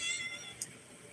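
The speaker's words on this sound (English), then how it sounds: "And I has a kitty." A pet cat gives a single short meow partway through, faint against a quiet indoor room tone.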